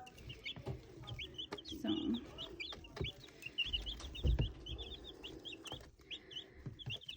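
A backyard flock of chickens clucks and settles, with repeated soft clucks and short chirps at moderate distance, a low rumble beneath and a brief word spoken.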